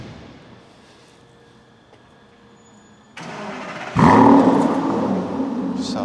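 A car engine makes a warm start after a quiet stretch: a click and whir, then it fires loudly and settles into a strong, steady idle close by.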